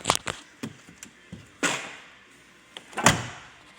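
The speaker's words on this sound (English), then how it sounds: "we're going to take and close all the doors." Several sharp thuds of 2016 Dodge Caravan minivan doors shutting one after another, close by, with quiet pauses between the slams.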